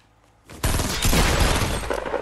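Gunfire bursts out in the GTA V video game, a loud sustained volley that starts abruptly after a quiet moment and keeps going to the end.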